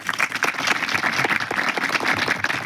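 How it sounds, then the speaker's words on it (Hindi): A seated audience at a cultural seminar on Gondwana culture breaks into dense, steady applause, many hands clapping together at close range for a few seconds with no talk over it. "तो एक बार सारे जीएसयू वाले अपने अपने लिए तालियां बजा लीजिए"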